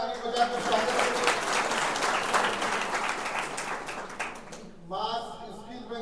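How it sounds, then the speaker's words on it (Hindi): Audience at a job fair applauds to welcome a speaker, steady broadband clapping for about five seconds, then fading as a voice begins speaking over the end. "आपका जोरदार ताली बजाकर स्वागत करें।"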